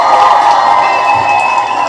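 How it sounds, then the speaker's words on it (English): Studio audience cheering and applauding at a political commentary show, a dense, loud wash of crowd noise with shouts and claps that holds steady throughout. "Huge round of applause."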